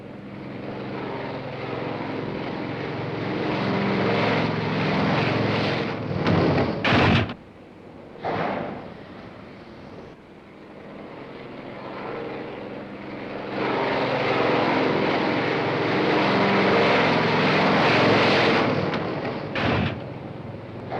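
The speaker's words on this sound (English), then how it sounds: "White flag, land aircraft." An aircraft coming in to land, its engine a loud, sustained roar that swells, drops away briefly, then builds again into a second long, heavy pass.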